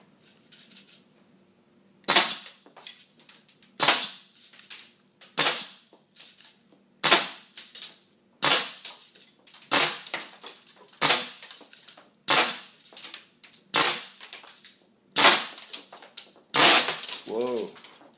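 An Assassin Blowgun Bowie Knife fitted with an airsoft barrel shoots airsoft ammo into cardboard, giving a long series of sharp, evenly spaced pops and snaps, each followed by a short thud.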